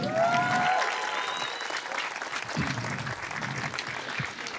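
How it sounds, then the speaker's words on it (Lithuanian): A live podcast audience claps to welcome a host, the applause warm and continuous with a few whistles cutting through at the start before it settles into steady clapping. "norėčiau, kad audringais plojimais pasitiktumėt mano mylimą kolegą Beną Lastauską"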